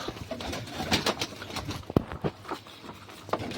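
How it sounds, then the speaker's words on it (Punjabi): Pigeons released from a newly built loft, with bursts of flapping wings and soft cooing close by, without any voices. "ਛੱਡਦੇ ਆ ਹੁਣ ਕਬੂਤਰ"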